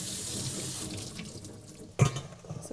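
Running water from a kitchen tap rinses salt off drained zucchini, a steady splashing stream that fades and then ends in a sharp clattering splash into the sink.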